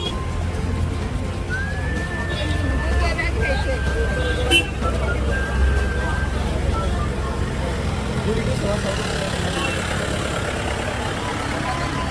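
Jammed road traffic on a Pune street, a constant low rumble of idling cars and trucks with a drawn-out horn tone early on, while people chat nearby throughout.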